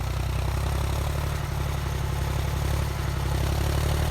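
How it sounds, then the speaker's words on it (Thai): A three-cylinder tractor engine runs steadily at close range, hauling a full load of sugarcane in second gear, with a low, even chugging throb and faint mechanical clatter throughout and no talk. "นี่สไตล์เครื่องสามสูบครับ"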